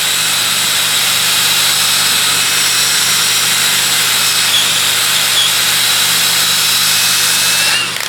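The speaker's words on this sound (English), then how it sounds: "I do spend a lot of time using my rolling pin sander." Rolling pin sander shaping the neck of an acoustic guitar, a loud continuous high whirring drone held steady for several seconds before easing off at the end.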